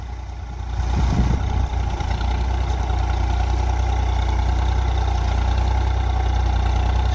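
A tractor engine labors steadily while slowly pulling a cultivator, a loud, constant low drone that rises in strength after the first second and holds without letting up.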